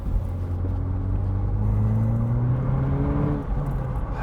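2014 Opel Astra VXR with a 2.0 engine heard from outside, its exhaust giving a loud, steady low drone that rises in pitch as it accelerates, then eases off near the end, no talking.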